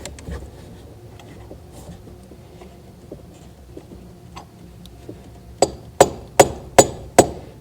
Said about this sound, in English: you want to take your mallet and tap them down in there while holding this bracket up